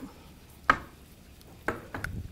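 A knife chopping food on a cutting board while vegan brunch is made, three distinct sharp chops with a pause after the first, close and fairly clear against a quiet kitchen.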